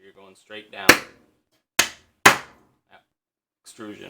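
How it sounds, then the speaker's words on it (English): A small hammer taps a 3D printer part down onto its rods during assembly of a Reprap Wilson TS, giving three sharp, separate knocks with pauses between them and soft rustling and handling noise around them. "So if we wanted to, we could just take a little hammer,"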